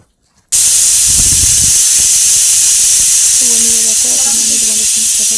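A pressure cooker of duck meat cooked with tomatoes vents steam in a loud, steady broadband hiss that begins abruptly and holds throughout, with faint tonal whistle-like traces appearing near the end.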